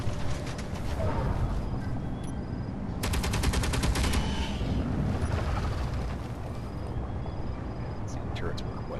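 Gun turrets firing in Space Engineers on an alien planet near an off-road mining truck, rapid mechanical bursts of gunfire with a dense rattling volley in the middle over steady engine rumble and game noise.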